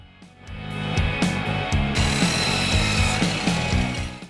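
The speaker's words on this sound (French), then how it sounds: "On va découper les coins à un angle de 45 degrés en suivant cette ligne." A Parkside power saw cuts the corners of wooden pieces at a 45-degree angle while building mini bars, a loud, steady mechanical whine with repeated rhythmic bursts throughout, heard alone without talk.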